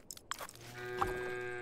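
Cows in the farming video game Farm Together 2 give a single drawn-out moo, fairly faint, after a few short clicks and chewing-like sounds.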